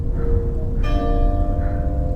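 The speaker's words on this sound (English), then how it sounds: "A bell." A bell in a horror video game strikes once with a clear, ringing tone that hangs and fades over a steady low background rumble.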